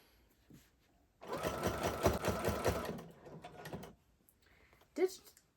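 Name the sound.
sewing machine ditch stitching a quilt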